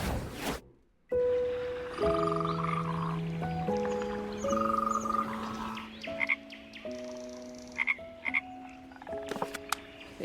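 Frog croaking in a video game, a steady run of loud, close, tonal croaks stepping up and down in pitch, followed by a few sharp clicks near the end.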